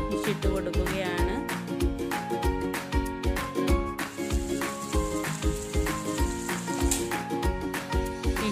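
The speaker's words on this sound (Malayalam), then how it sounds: "ഞാൻ ഇതിലേക്ക് ഫിഷ് ഇട്ട് കൊടുക്കുകയാണ്." Fish frying in hot coconut oil on a tawa gives a bright, continuous sizzle, partly buried under loud rhythmic background music.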